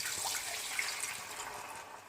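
A steady stream of water pouring into a pan, a soft continuous splashing rush with no talking.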